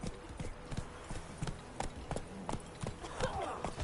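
Rapid, rhythmic hoofbeats of the horse Roach galloping in The Witcher 3, steady and fairly close, with a low voice briefly heard under the hoof clatter.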